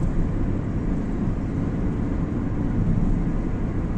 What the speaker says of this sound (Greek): Είναι πολύ καλό drone.